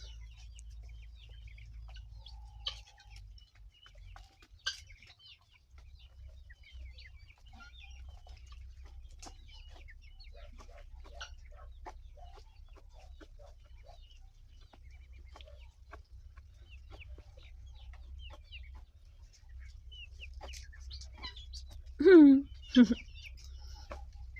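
Ducks, guinea fowl and chickens in a farmyard at feeding time give scattered clucks and short calls at moderate distance, with a louder burst of squawking near the end and faint rustling throughout.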